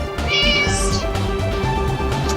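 A cat meows once, a short high cry over loud steady music with a pulsing beat.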